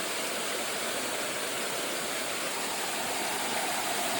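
Rushing water of a stream or waterfall, a dense, steady broadband roar close by with no pauses and no voices.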